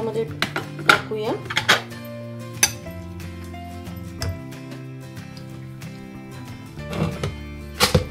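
Soaked dal and rice are tipped into a steel mixer jar with close, irregular metallic clinks, knocks and scrapes of utensils. The clatter is bunched at the start and end, with a quieter stretch between.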